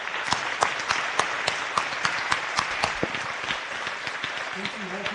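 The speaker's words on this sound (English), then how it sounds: "Can we give them a round of applause, please?" Audience applause at a Dawson Community College graduation ceremony, honoring board of trustees members, with a steady wash of clapping from a crowd and a few sharper nearby claps, continuing throughout.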